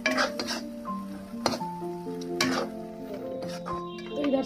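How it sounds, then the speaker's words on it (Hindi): Ground spices with salt and turmeric fry and get stirred in a pan, giving a low sizzle broken by sharp clinks and scrapes of a utensil against the metal, fairly close and fairly loud, with background music running throughout. "ये मसाले को अच्छे से भूनेंगे,"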